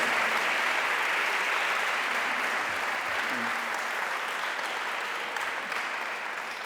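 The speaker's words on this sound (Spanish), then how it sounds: "pediros el mayor de los aplausos para ellos" An audience at a literary event applauds two authors, dense continuous clapping filling the room and slowly fading, with no talking over it.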